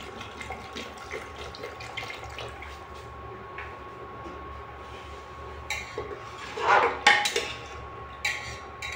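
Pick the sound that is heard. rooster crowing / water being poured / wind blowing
water being poured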